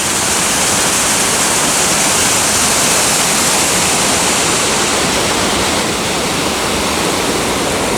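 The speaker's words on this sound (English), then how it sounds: "A lot of water going over this waterfall right now." A powerful waterfall in high flow near Old Forge roars in a dense, constant rush of falling water, loud and close, with no breaks.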